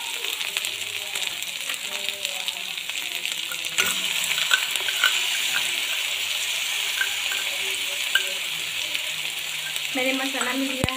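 Onions that are already well cooked fry in a pan for a dhaba-style egg curry as masala spices go in, giving a steady close sizzle with a few stirring clinks and a brief utensil tap near the end.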